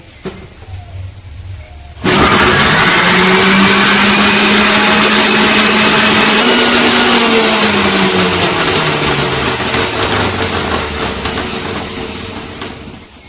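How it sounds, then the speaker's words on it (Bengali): A mixer grinder starts abruptly and whirs loudly as it grinds tomatoes and spices with water, the motor droning steadily, its pitch shifting as the load changes, before easing off toward the end. "মিক্সারে মশলাটা ভালো করে বেটে নিয়েছি"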